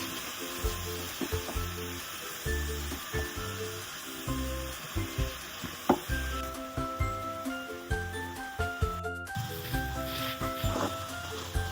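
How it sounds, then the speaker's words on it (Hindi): Ridge gourd with spices sizzles in a pan, a steady hiss broken by repeated soft stirring knocks and scrapes at close range, with a pale background of tonal music and no speech. "और सबको मसाले के साथ 1 मिनट तक भूनूंगी"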